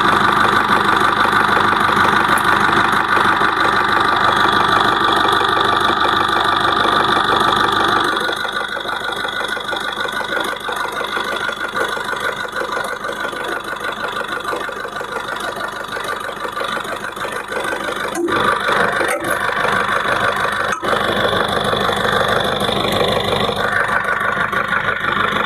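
Diesel engine of a 2019 Maruti Ertiga ZDI+ top-end MPV idling steadily, a continuous mid-pitched rumble that drops slightly in level partway through, with a few sharp clicks near the end.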